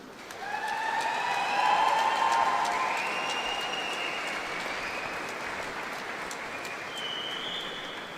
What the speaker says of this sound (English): giving all of these people a well-deserved round of applause